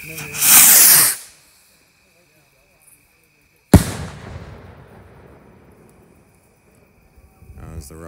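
Fireworks at a local pyro club: a loud hissing burst of a rocket or fountain, then a sharp crack followed by a fading crackle and rumble, with quieter pops near the end.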